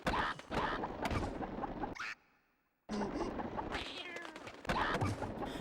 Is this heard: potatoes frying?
no